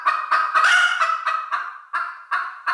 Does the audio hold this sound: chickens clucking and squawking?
yes